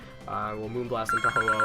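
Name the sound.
mobile phone ringing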